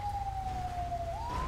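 Emergency siren in GTA V during LSPDFR police gameplay, from an ambulance arriving on scene: one steady wailing tone that slowly falls in pitch, then rises again, over a low continuous rumble with no talking.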